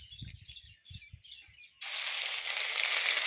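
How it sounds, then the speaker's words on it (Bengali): Spice paste tipped into hot oil left from frying fish sets off a sudden, loud sizzle. Before that come a few light clinks and faint chirps, then the sizzle carries on as a dense, steady hiss. "এবার মাছ ভাজা তেলের মধ্যে পেস্ট করে রাখা মশলাগুলো সব দিয়ে দেবো।"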